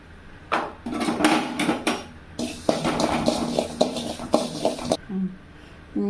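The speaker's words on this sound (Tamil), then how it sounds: "கசகசாங்க அதையும் வறுத்துக்கலாம்" Poppy seeds dry roasting in a pan while being stirred, heard as steady close scraping and rattling of utensil against metal, with some light clinks, fading near the end.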